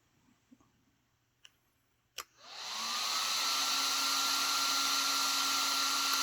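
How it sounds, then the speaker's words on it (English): A few light clicks, then a small 35mm Surpass Hobby RC ducted fan spins up within a second into a loud, steady high-pitched whine and rush of air that holds to the end. "let's just give it a quick little test so you guys can actually hear this fan run"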